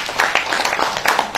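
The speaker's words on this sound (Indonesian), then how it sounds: "Boleh tepuk tangan bagi Tuhan kita." A congregation applauding during a church worship service: dense, continuous hand clapping from many people for a brief moment, fairly loud and close.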